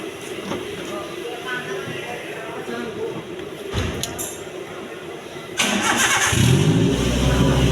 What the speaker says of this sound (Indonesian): Hidupkan mesin dan AC.